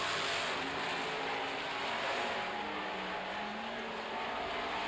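Super trucks roar around an oval track in a heat race, a dense, steady engine drone from the pack with a slight pitch swell as they pass.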